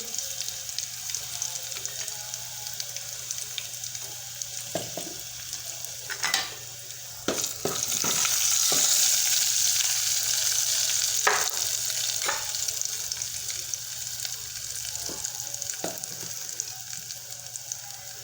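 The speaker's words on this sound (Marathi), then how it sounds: "लसण झालं की लाल तिखट टाकून घेऊ" Garlic and red chili powder sizzle steadily in a hot pan, a continuous close frying hiss broken by sharp scraping clicks of a spoon stirring, with a brief surge of louder sizzling midway.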